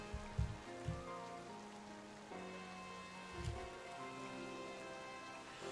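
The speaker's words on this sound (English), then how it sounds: "as soon as I loaded it up, it is raining" Rain falls steadily in Pokémon Violet as a soft, continuous patter, with low tonal game music and a few deeper thuds underneath, fairly quiet throughout.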